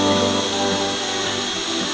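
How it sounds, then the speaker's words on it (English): A long 3/32 drill bit bores out holes in a cross beam of a Sonex aircraft's forward fuselage, giving a steady, close whirring drone that holds for the full two seconds with no talk. "I'll use a long 3/32 drill bit to get down inside of that."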